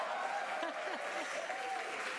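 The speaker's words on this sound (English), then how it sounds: "the crowd is going wild" Crowd cheering and applauding at a NASA Crew-10 rocket launch during stage separation, a steady dense wash of clapping and distant cheers with a faint broadcast voice underneath.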